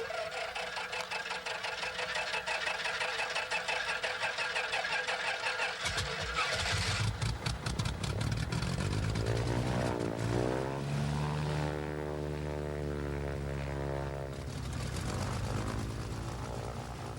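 Piper Aerostar right engine starts: an existing steady drone is joined by a cranking, catching engine that spins up into a loud, continuous propeller roar with shifting pitch, heard close with no talk.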